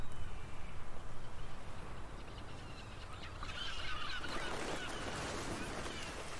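Gull calls in the Suikoden IV game, a squawking flock heard over a steady background wash, noisier and busier in the second half.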